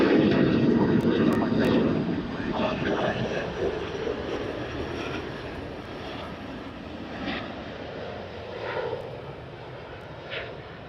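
An Emirates jet, flight EK412 to Christchurch, taking off from Sydney Airport, a broad steady engine roar that fades gradually as it climbs away into the distance.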